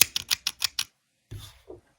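Six quick crisp snips of scissors cutting yarn in a fast rhythm, close up, while crocheting coasters, followed by a pause and a couple of soft rustling sounds.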